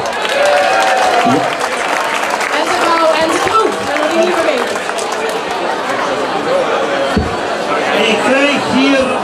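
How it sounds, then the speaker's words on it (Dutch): Audience applause at a festive evening finale in Deurne, a dense steady clapping with crowd chatter mixed in throughout. "Mensen, een applaus voor Marcel van Bussel."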